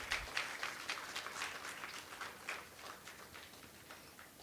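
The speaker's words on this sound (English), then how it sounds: "A warm round of applause as we welcome them to the dais." Audience clapping in a conference hall welcomes guests onto the dais at a valedictory function, a steady dense round of applause that fades slightly toward the end.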